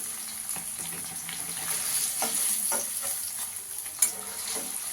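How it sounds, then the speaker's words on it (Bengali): Paneer lightly frying in a pan, a close, steady sizzle with bright crackling and occasional stirring scrapes, one sharper pop near the end, with no talking. "পনিরটা হালকা করে ভেজে নেওয়া হয়ে গেছে"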